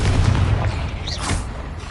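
A Confringo spell explodes in Hogwarts Legacy, a deep booming blast with a rumbling low body and brief crackling tail, loud and close, followed by fading sizzle.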